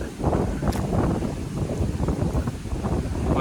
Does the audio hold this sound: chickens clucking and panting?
no